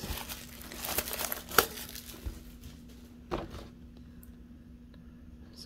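Plastic wrap and cardboard packaging of a Pokémon Evolving Skies Elite Trainer Box crinkle and tear up close, a busy rustle early that thins into sparse crackles and a soft thud, over a faint steady hum.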